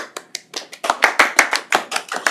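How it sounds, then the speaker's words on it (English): Meeting attendees give a short, sparse round of applause, with distinct individual claps building into a denser patch of clapping before trailing off. The claps sound close and clear. "Give a round of Speak. applause."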